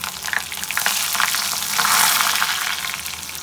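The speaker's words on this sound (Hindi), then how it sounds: "अब भगार तैयार कर लेते हैं।" Onion, whole chilies and curry leaves sizzle loudly in hot oil for a tadka tempering for Punjabi kadhi pakora, a dense steady crackle that swells midway with faint stirring underneath.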